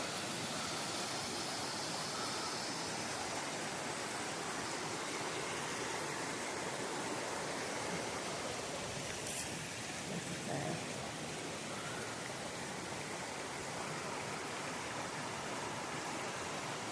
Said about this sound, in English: It's just full of waterfalls on this trail.